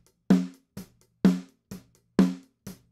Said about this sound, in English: we've got a snare top, which sounds like this.